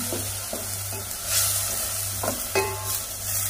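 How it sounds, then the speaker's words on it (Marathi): Masala for a coconut-free fish curry is sautéed in a pan, with repeated scraping stirs and a soft sizzle over a steady low hum, no voices. "आता याला व्यवस्थितपणाने परतून घ्यायची, ठेवायची, मसाला भाजायला हवे व्यवस्थितपणाने"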